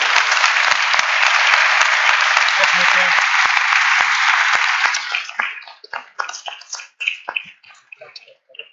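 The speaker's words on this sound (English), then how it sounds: "I really would like us to give a warm applause to this panel." Conference audience applauds a panel discussion on the Arctic, a dense, steady wash of clapping for about five seconds that thins into scattered claps and fades out, with faint voices in the room.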